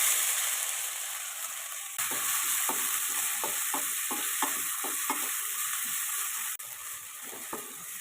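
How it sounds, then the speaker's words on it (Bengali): Continuous sizzling of grated onion and green chili frying in a pan, with a rhythmic series of scraping stirs and spoon taps over the steady hiss, close and moderately loud. "এবারে এটাকে আমি ভেজে নেব।"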